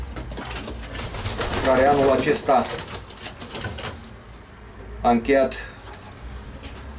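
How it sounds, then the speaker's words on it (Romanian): Racing pigeon cooing in a loft, soft throaty coos heard in two bursts, partly under someone speaking Romanian. "Vă prezint cel de-al treilea porumbel"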